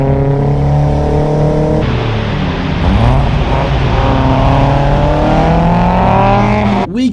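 A 1-litre turbocharged Nissan Micra on a road trip drops to second gear and accelerates, its engine note climbing steadily and loud from inside the cabin, with a brief shift dip midway before pulling hard again.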